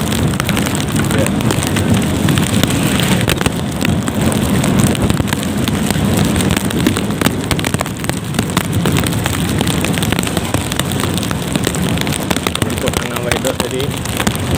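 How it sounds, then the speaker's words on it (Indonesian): Heavy rain beats down steadily during a ride home through Sinabang, a loud unbroken hiss and patter with low road rumble beneath, lasting the whole stretch. "Ini hujan lebat ini langsung nih"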